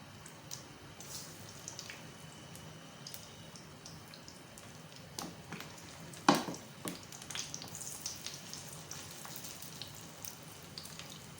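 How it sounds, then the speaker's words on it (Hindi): Beef shami kabab patties shallow-frying in a hot pan give a faint, steady sizzle with scattered small pops and crackles and a slightly louder burst midway, with no voices. "पैन हमारा गर्म हो गया है, और मैं शैलो फ्राई कर रही हूँ"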